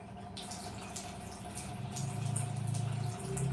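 pH 8.5 alkaline water pours from a water ionizer into a container, a steady close trickle that swells into a fuller flow partway through, with no talking.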